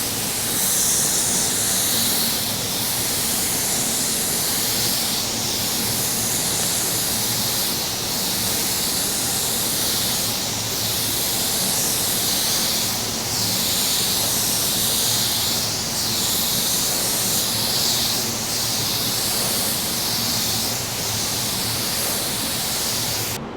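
A spray gun lays glossy paint onto a car hood in a long, continuous hiss with soft periodic swells as the gun sweeps back and forth in overlapping passes, loud and close.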